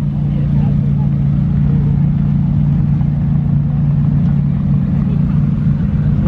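A supercar pulls out of the Beaulieu Supercar Weekend exit, its engine giving a steady, loud low rumble, with voices talking over it.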